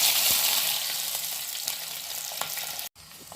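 Spices and ingredients for a fish curry sizzle steadily in hot oil, a close, continuous broadband frying hiss with a few crackles, briefly cutting out near the end.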